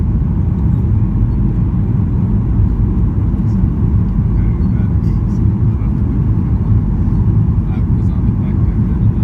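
A Norwegian Boeing 737-8JP with winglets fills the cabin with a loud, steady engine and airflow roar on landing approach to Stockholm Arlanda, unbroken throughout.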